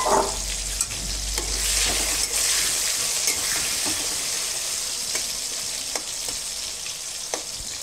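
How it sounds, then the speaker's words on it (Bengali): Potatoes coated in turmeric and salt frying in hot oil, a steady close sizzle with repeated light scrapes and taps of a spatula stirring them, no voices. "এখন আমি এই যে আলুগুলো ভেজে নেব। আলুগুলো আমি হলুদ নুন দিয়ে মেখে রেখেছি, এগুলোকে একটু ভেজে নেব।"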